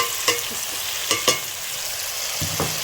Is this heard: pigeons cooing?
no